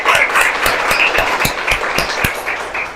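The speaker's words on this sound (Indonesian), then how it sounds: "Oke, tepuk tangan untuk kita semua." A classroom full of students applauds together, a dense wash of clapping running steadily throughout, with a few sharper individual claps standing out and faint voices mixed in.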